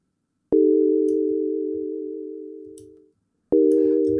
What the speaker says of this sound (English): And now we get our sort of vibrato kind of sound.